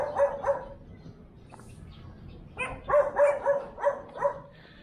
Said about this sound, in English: Lots of dogs, of course.